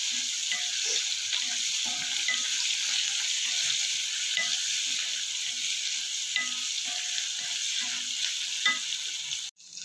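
Onions fry with salt in a pan until browned, a dense, even, close sizzle holding steady throughout with faint stirring knocks beneath, then a sudden cut at the end.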